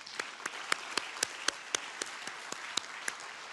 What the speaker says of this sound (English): Please join me in giving our Malaysian colleagues a well-deserved round of applause.